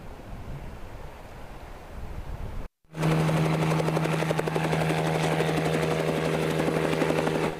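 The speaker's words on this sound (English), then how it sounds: "We're about to take a helicopter flight over Shark Bay and some of the surrounding area here" A helicopter over Shark Bay on Western Australia's outback coast starts up after a brief gap, its steady rotor thrum and engine whine loud and continuous, following windy outdoor noise.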